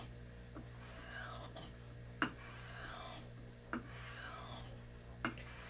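A spoon knife is rubbed back and forth on 1000 grit sandpaper in quiet, steady rasping strokes over a low hum, with a soft tap at the end of each pass.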